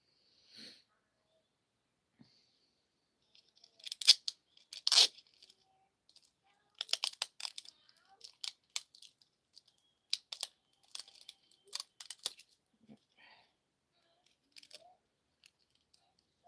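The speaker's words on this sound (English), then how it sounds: "So I'm just using some Scotch tape." Scotch tape is pulled off a roll and pressed on around the eyes, heard as faint, close crackly tearing and crinkling in scattered bursts with quiet pauses between them.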